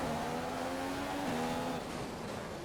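Formula 1 race car in the F1 2015 video game at the Singapore circuit, its high engine note holding steady then dipping slightly, continuous and close with faint tyre noise.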